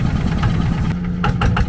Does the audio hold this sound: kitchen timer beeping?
no